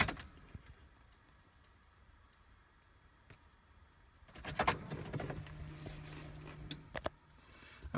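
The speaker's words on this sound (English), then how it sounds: "let me power cycle the ignition." Keys jangle in the ignition of a Mercedes 240D W115 as it is switched off and on, a soft metallic rattle and clicks followed by a low electrical hum from the car, close and quiet.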